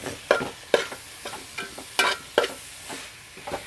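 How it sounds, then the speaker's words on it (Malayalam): Yogurt is stirred into biryani masala in a pot, with a soft simmering sizzle under repeated scraping and clacking strokes of a spoon at an uneven rhythm. "നമുക്ക് തൈര് ആഡ് ചെയ്യാം കേട്ടോ. നന്നായിട്ട് മിക്സ് ചെയ്യുന്നുണ്ട്."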